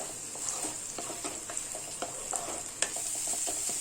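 Eggs stir-fried in a kadai pan for egg Maggi noodles, a steady bright sizzle with repeated scraping stirs of the spatula at close range, no voices.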